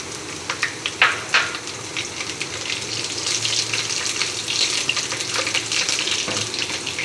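Green chillies dropped into hot oil in a pan over a very low flame for an aloo methi dish, a couple of sharp splattering pops followed by a steady soft sizzle that continues alone.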